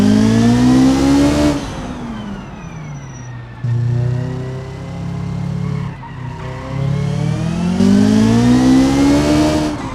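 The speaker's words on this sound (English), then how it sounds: "We're just using the engine to kind of hold our speed here." Simulated car engine in BeamNG driving off-road, droning steadily with rising and falling pitch as it revs and holds speed, with tire skid noise, loud and continuous throughout.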